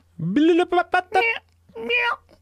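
A voice imitates a cat, giving several quick meows in a row followed by one longer drawn-out meow, close and clear.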